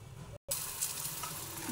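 Brinjal pakoras crackle and sizzle in hot oil, a brief steady frying sound broken by a short dropout, close up and without speech.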